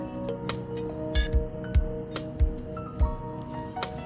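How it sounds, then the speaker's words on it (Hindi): Wrench work loosens the leaf spring bolts on a Tata Ultra 1918 truck, giving sparse metallic clinks and low knocks at irregular intervals, close by and fairly quiet, with no talking. "ये हमने तीसरा भी बोल्ट खोल दिया"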